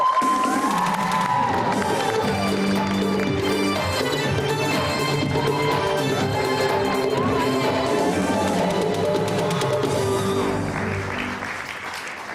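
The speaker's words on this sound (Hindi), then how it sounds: "तो आपकी बहुत सारी तालियों बुला रही हूँ रुबाब और मनाल को।" Studio audience on a Pakistani entertainment talk show applauding and cheering loudly and steadily, sustained throughout with music-like tonal layers underneath, tapering slightly at the end.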